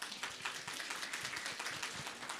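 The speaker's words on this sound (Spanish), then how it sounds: "Una vez más vamos a dar fuertes aplausos." A church congregation at a Sunday service claps steadily and fairly quietly for a few seconds, with an even rhythm of many hands and no voices on top.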